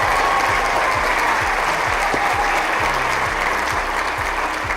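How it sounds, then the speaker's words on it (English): A large evening awards-ceremony audience gives a sustained round of applause for main street award winners, steady and full throughout, with a low rhythmic thumping underneath. "Let's give all of our award winners tonight another big round of applause."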